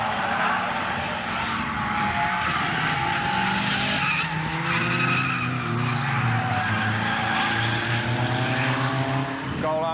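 A drift car, such as a G35 Skyline, skids loudly and continuously, with tire squeal layered over a roaring, revving engine throughout, close and intense with no pauses.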